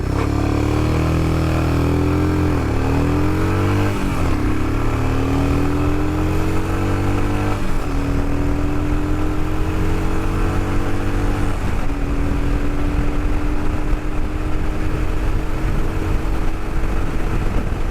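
Royal Enfield Himalayan motorcycle with a stock air filter accelerating hard from a launch, its engine note climbing steadily through the gears toward 6,000 RPM, loud and close throughout with no talking.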